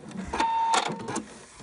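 Brief bursts of whirring from a sewing machine stitching across elastic on a Santa hat, short and close, stopping and starting within a second or so.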